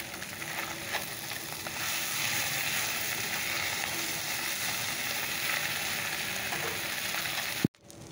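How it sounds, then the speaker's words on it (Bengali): Small fish fry in a wok with a continuous, even hiss and sizzle that holds steady from start to finish, then stops after a sharp knock. "বড় মাছগুলো ভাজা হয়ে গেছে, ছোট মাছটা বসিয়ে দিয়েছি।"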